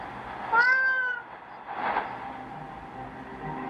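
A single cat gives a clear drawn-out meow within a Hindi shortwave radio broadcast, then a softer second call follows over faint background hiss.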